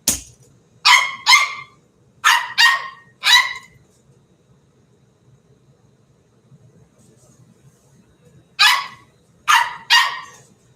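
A dog barks in two bursts of sharp, loud barks, first a quick run of about five and then three more after a quiet gap, against a faint low hum.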